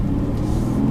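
A 2018 Mercedes-AMG GT C Roadster's twin-turbo engine pulling away smoothly, a close, steady low rumble and drone heard from inside the car.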